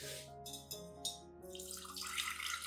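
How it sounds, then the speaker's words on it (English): Clean water pours into rice water to dilute it, a faint splashing trickle in short bursts that turns into a steadier pour, heard close and quiet over a tonal background hum. "Add 500 milliliters of clean water to dilute the solution."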